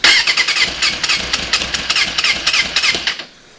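A 2006 Suzuki GSX600 motorcycle with suspected stuck carburettor floats cranks hard for about three seconds, a loud close pulsing starter churn that barely catches before cutting out abruptly to silence.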